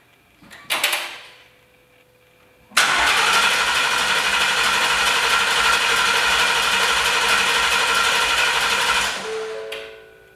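A 2017 Mustang GT V8 fitted with a Paxton supercharger cranks and fires, then settles into a loud, steady close-up idle with a whining drone for about six seconds before shutting off, following a brief clatter and silence.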